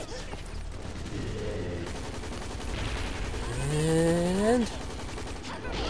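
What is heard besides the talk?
gunfire in video game Hazrd Ops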